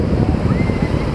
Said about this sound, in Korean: 지금 파도가 굉장히 세고 또 바람이 불어서 이렇게 날려 들어와요